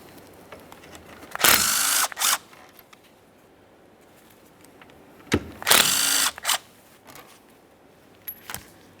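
A power tool backs out 10mm bolts on a 2007-2017 Jeep Wrangler 3.6L V6 radiator in two short whirring bursts, each with a brief second pulse, separated by quiet.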